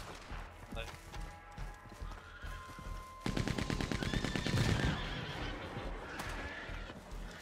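Gunfire in the Western video game Red Dead Online, a rapid burst of shots in the middle among horse whinnies and hoofbeats, fairly loud and close.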